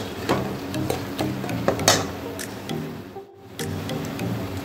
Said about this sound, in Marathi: आता हा मसाला छान असा अगदी 1/2 मिनिट आपण परतून घेऊया।